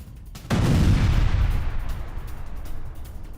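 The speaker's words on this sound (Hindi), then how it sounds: "ऊंची ऊंची इमारतों के बीच एक ऐसी इमारत पर धमाका" A sudden, powerful explosion hits a building among high-rises in Beirut, erupting and rolling into a long, rumbling roar that slowly fades, heard from a distance outdoors.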